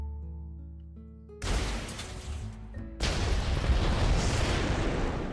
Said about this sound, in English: And as far as nuclear explosions go, this is a fairly small one.